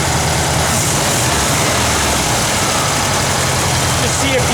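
Engine of a Volkswagen Kubelwagen idles after a tune-up with clean spark plugs and a new coil, a loud, steady low rumble heard close up with a voice speaking over it.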